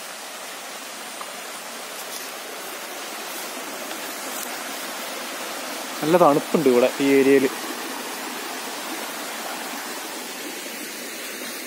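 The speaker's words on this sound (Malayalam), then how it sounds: "അരുവി പോലെ" A small stream flows in a cool high-range area at Poovaranthode, Kozhikode, giving a steady, soft rush of water throughout. A person talks briefly midway over it.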